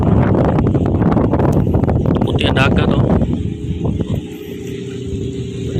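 Strong wind of about 22 knots gusts loudly across the microphone as a motor tanker docks, a dense roar that thins after a few seconds while someone talks over it.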